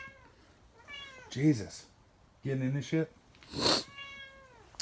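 A cat meows several times in separate rising and falling calls, close by, while someone speaks briefly between them outdoors near a running generator.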